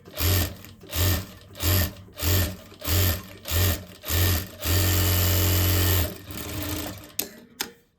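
A sewing machine stitches fabric for a sleeve-cut blouse in seven short, evenly spaced bursts, then one longer continuous run, close and clear, ending with a few small clicks.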